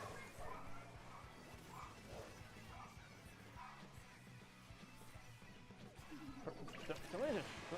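A dog barks repeatedly in the background, faint and spaced out, beneath a streamer's talking and the game sounds of a Splatoon 3 Turf War match.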